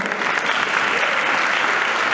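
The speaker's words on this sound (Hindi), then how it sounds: "तालियां भेजिए सब" Sunday School Christmas program audience applauding, a dense, even burst of clapping from a crowd that holds steady throughout.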